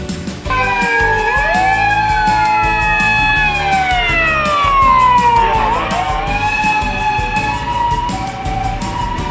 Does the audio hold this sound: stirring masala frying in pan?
no